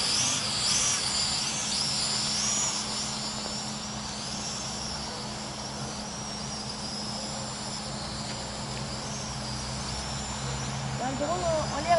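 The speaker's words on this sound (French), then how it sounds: "Là je ne touche pas les commandes, le drone ne bouge pas." A Hubsan X4 Desire H502S quadcopter drone hovers in place with altitude hold, giving a steady whining buzz of small propellers that stays even and constant throughout.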